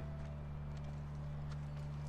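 Horse hooves galloping in The Last of Us video game, a steady rhythmic clip-clop set against a continuous low droning hum, with no talking.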